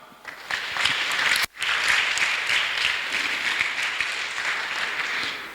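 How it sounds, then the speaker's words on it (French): A church congregation applauds during a Sunday sermon, with steady, full clapping that breaks off briefly and then resumes strongly for several seconds. "On acclame."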